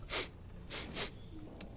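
A narrator's voice imitates a creature sniffing the air, giving three short breathy snorts with pauses between them, close and fairly quiet.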